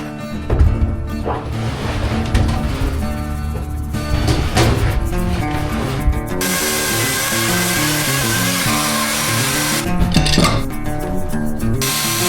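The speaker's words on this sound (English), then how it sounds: "He used a chainsaw to cut excess material off the back of the stem" A chainsaw grinds steadily through the wooden stern stem of a boat, loud and continuous with shifting pitch, briefly easing and then resuming at full intensity.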